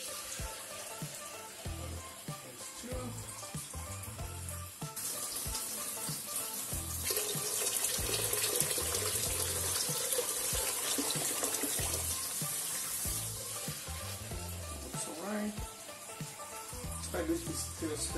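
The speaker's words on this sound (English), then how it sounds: "add cold water, 6 pints of it." Cold water runs steadily from a tap into a homebrew elderflower batch, a loud continuous rushing splash that swells midway and lasts throughout.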